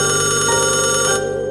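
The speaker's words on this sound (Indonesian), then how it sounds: "tiba-tiba telepon rumah berdering" An old wall-mounted corded home telephone rings with a bright, sustained electronic bell tone, close and loud, cutting off after just over a second.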